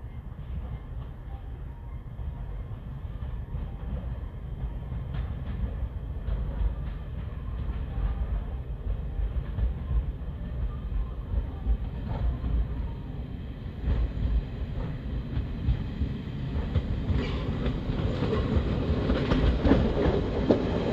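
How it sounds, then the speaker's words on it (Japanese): Nagano Electric Railway train bound for Nagano from Yudanaka, an older ex-Tokyo car, pulling into Suzaka station: steady low rumble of wheels and motors builds gradually with faint clatter, growing louder toward the end, no talk. "湯田中駅からの、長野行き電車がやってくるようです。"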